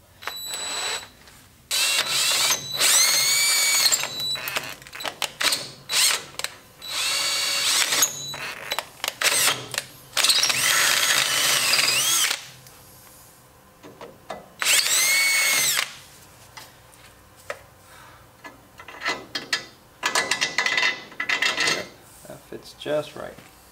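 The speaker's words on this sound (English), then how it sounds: "drilling into the spindle has been very easy. And that last hole was actually very frustrating to make" A power drill whines in repeated bursts of several seconds each, grinding into a metal brake spindle on a Toyota Tacoma, with clinks and handling noise in the pauses between.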